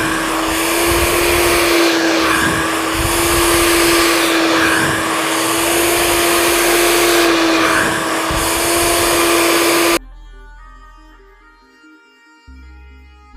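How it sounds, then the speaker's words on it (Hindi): A hair dryer blows steadily and loudly during a layered-haircut blow-dry, its whine dipping briefly a few times as it moves, then cutting out abruptly near the end, followed by quiet music. "इस तरह से हमको फ्रंट पर आके ड्रायर करना है"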